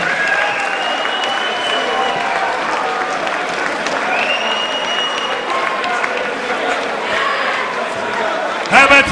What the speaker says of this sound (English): Give Tim Bell a big round of applause